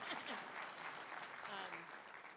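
Audience applause at a conference, a steady wash of clapping from a crowd filling the room, with voices faintly mixed in underneath.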